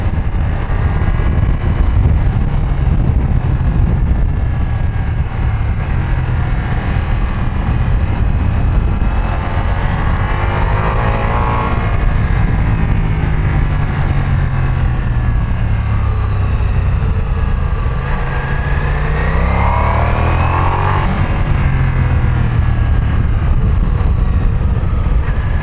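A Ducati Multistrada V4S motorcycle engine hums steadily while riding in the Alps, rising and falling in pitch as revs climb, with constant wind rush over the microphone throughout.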